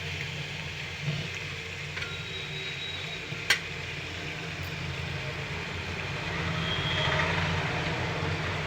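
Pieces of vanjaram fish frying in a pan with green chillies, giving a steady moderate sizzle and hiss throughout, with a couple of faint clicks.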